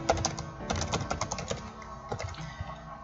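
Rapid typing on a computer keyboard, a close, steady patter of key clicks in uneven bursts with a brief pause midway, no voices.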